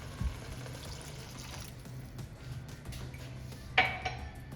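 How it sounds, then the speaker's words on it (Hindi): Half a cup of water poured into a pan of chicken keema brings a soft hiss and rattling against the pan, followed by a sharp metallic clink of utensils near the end. "साथ ही इसके अंदर मैं आधा कप पानी ऐड कर रही हूँ।"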